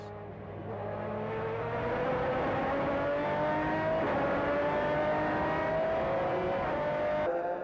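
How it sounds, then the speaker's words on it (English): A TWR race car at a Le Mans Endurance Series event enters the pits: a steady, loud engine drone rises in pitch as it accelerates and holds near. "The TWR team from Salisbury bring their car into the pits."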